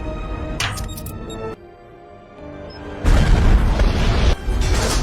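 Explosion in The Avengers film, loud booming blasts with a sudden heavy burst midway and continued roaring rumble, set around an aircraft losing a propeller.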